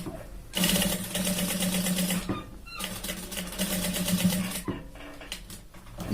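A sewing machine stitches a shirt shoulder seam, running in two long, steady, rapid rattling bursts close by, with brief pauses and handling noises between them.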